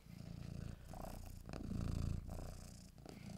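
A house cat purrs loudly and close by, a deep, rolling rumble that swells and eases with each breath across a few seconds, with no voices over it.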